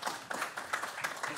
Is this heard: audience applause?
yes